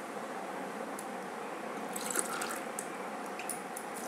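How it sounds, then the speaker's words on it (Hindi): Water is poured into a cooking pot for sambar, a steady soft splashing stream with a few brighter drips and splashes, close by and continuous for a few seconds, no talking. "1 गिलास पानी डाल देते हैं इसमें"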